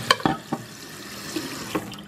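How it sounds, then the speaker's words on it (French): Hot water poured into a bowl while changing the water, heard as a few short, close splashes spaced irregularly through a quiet background. "j'ai changé l'eau pour de l'eau plus chaude"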